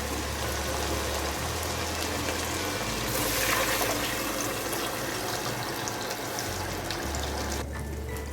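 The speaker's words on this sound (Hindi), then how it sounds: "2 कटोरी हम पानी ऐड कर रहे हैं।" Water poured steadily into a cooking pot of fried rice for chana pulao, a continuous close splashing fill with a gurgling shift partway through, heard alone.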